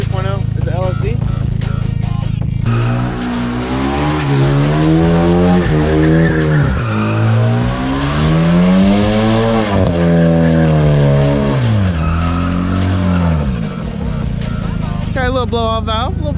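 A Hyundai Genesis 2.0 drifting at an evening event, its engine revving hard in long rising and falling sweeps with tire squeal, loud and close. A brief turbo blow-off hiss comes near the end, with people talking over it.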